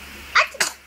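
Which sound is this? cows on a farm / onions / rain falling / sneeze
sneeze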